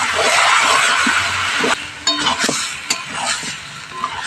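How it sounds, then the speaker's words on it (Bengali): Chicken sautéing with spices and yogurt in a pan, loud sizzling at first, then quieter frying broken by sharp clinks and scrapes of a spoon against the pan, no talk. "টক দইটা দিয়েও খুব ভালো করে কষিয়ে নেব"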